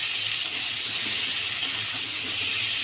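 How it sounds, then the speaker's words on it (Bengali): Chopped onion and green chilli sizzle in a pan, a constant soft hiss with a couple of faint clicks, heard close and alone without talk. "পেঁয়াজ আর কাঁচা লঙ্কা ভাজা ভাজা হলে দিয়ে দেবো পনিরটা।"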